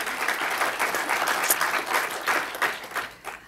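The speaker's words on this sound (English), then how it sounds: "So just a quick round of applause for the volunteers." Short, lively round of applause from a film festival keynote audience for the volunteers, dense clapping that rises and dips slightly in loudness over a few seconds.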